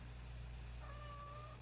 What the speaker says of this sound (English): Hello, my lovely kitty. My kitty is here with us.